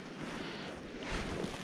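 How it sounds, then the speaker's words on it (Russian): Strong, steady wind gusting by a forest lake, a broad continuous rush that swells slightly louder near the end, close to the microphone with no other clear sounds. "Ветер усилился вот сейчас."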